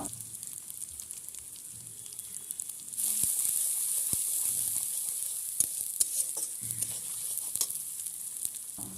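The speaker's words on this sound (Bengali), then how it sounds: "দিলাম সামান্য 5 ফোড়ন, হলুদ গুঁড়ো, নুন। এবারে নাড়তে থাকবো।" Five-spice seeds, turmeric and salt frying in oil for a snakehead fish curry with tomato, a bright steady sizzle that swells after a few seconds, with occasional spoon taps and scrapes as the mix is stirred, close and without voices.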